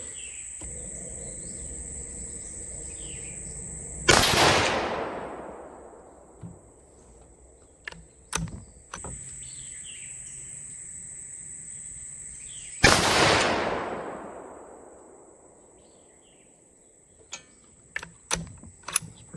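Savage 110 VSX rifle in 6.5 Creedmoor firing at a range, two loud sharp shots several seconds apart, each with a long decaying echo, amid faint clicks and a steady high insect-like hum.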